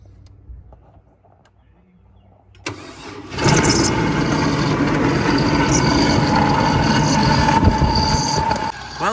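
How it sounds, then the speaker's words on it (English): Chevrolet Colorado ZR2 pickup bought sight unseen at auction, cranking briefly then firing up and settling into a steady, rough idle, close and fairly loud after a quiet start. "You're gonna see this thing will fire up and back off the trailer."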